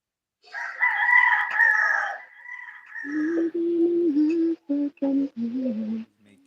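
A rooster crows loudly and close, a long high call that drops into a lower drawn-out tail, followed by a run of short clucking notes.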